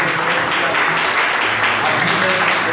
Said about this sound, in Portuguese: eu gostaria que nessa noite nós dessemos uma salva de palmas para as nossas mamães.